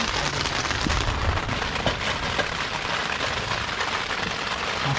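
Steady heavy rain pours down at a mountain campsite during a thunderstorm, a dense continuous hiss with scattered nearby drips and taps, with no voices.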